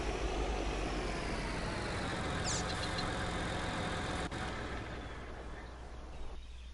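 A diesel tractor idles with a deep exhaust note, a steady low rumble at moderate distance that holds evenly throughout with no one speaking.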